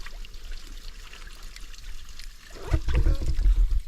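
Water tipped from a hat splashes onto a head beside a mountain tarn, a soft outdoor hiss giving way to a louder, close splashing pour near the end.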